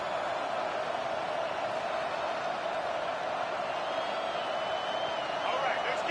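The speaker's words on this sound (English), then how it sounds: "The crowd getting behind this defense as they try to get a stop in the red zone" A stadium crowd at a football game roars steadily for the defense during a red-zone stand, a dense, constant wash of cheering with a commentator talking over it.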